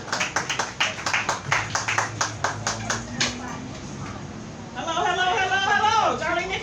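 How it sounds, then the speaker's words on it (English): Audience clapping for a comedian at a comedy show, distinct sharp claps in a fairly sparse rhythm for several seconds before a voice starts talking over the fading applause. "Give her a round of applause."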